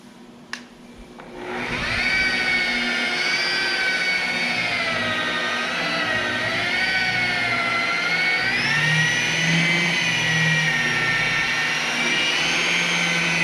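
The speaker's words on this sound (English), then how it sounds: "So I just have an inexpensive polishing machine. I'm using a foam pad." An inexpensive polishing machine with a foam pad working on car paint on a Chevy C10, spinning up to a steady loud whine that wavers slightly in pitch as pressure changes.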